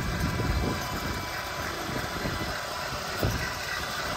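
A Dodge engine running on engine oil as fuel, giving a steady, low, distant-sounding drone that holds without clear changes throughout.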